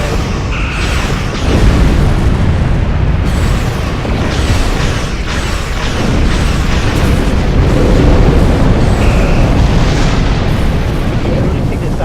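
Explosions in the video game Star Trek Online rumble loud and continuous, with deep booms and crackling bursts layered over one another and game effects mixed in throughout.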